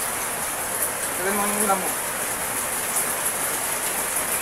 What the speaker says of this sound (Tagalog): Umuulan ngayon dito sa amin.